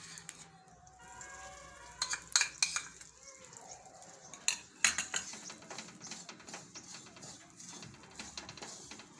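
Flour roasting in ghee over a low flame is stirred in a pan, giving soft scraping and intermittent clinks of a utensil against metal, faint and irregular with quiet stretches between strokes.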